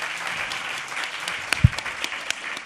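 Steady applause from an audience at a trans identity panel talk, a dense continuous patter of many hands with a few sharper louder claps standing out near the end.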